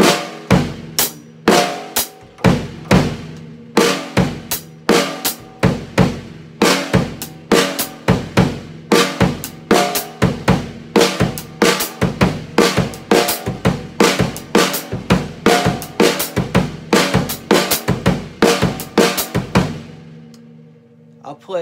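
Drum kit playing a linear pattern on hi-hat, snare and bass drum, with one drum struck at a time in a steady, repeating rhythm of sharp, close hits that carry on alone for about twenty seconds.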